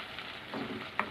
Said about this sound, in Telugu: కొంచెం అల్లం తెల్లగడ్డ పేస్ట్ పచ్చి వాసన పోయేంత వరకు వేయించుకుందామండి